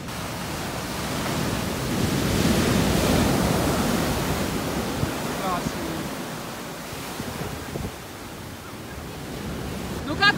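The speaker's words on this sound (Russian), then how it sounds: "Сейчас поснимаю вам, какие волны." Stormy sea waves crash and roar as continuous loud broadband surf mixed with wind buffeting the microphone, with faint voices at times.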